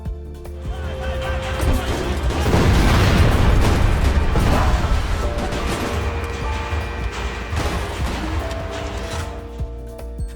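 Rotary grenade launcher blasts in GTA V, a run of heavy booming explosions that swell louder in the middle and keep rumbling and popping, close and loud with no talking.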